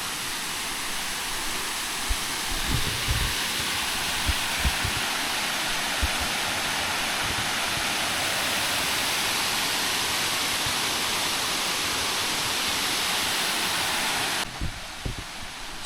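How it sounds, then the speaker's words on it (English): Water pours over the dam at the Upper Falls of Falls Mill, a steady, loud broadband roar that fills the whole clip with only a few faint low knocks, then drops slightly in level near the end. "This is the dam in the Upper Falls."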